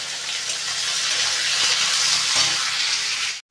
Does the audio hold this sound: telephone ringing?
no